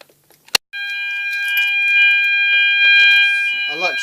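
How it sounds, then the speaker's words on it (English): A fire alarm sounds during a test: after a sharp click, a loud, steady electronic tone starts and holds without a break, with a person talking over it near the end. "Filming fire alarms only. I'm going to do this one."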